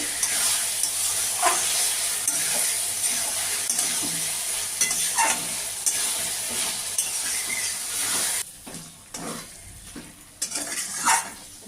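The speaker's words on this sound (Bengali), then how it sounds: "আরও কিছুক্ষণ কষাবো" Masala for chicken ghugni, with a pinch of sugar added, sautéed in a pan: a close, continuous sizzle broken by repeated spoon scrapes and clinks against the pan, easing briefly toward the end.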